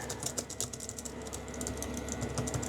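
Soft, rapid clicking of Logitech MX Keys S keyboard keys being typed on, a steady irregular patter of light taps close by.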